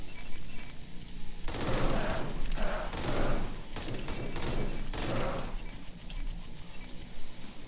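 SMG gunfire from the video game Arcade Paradise: several rapid bursts of automatic fire in quick succession at moderate level, with small electronic game beeps and chimes scattered around them.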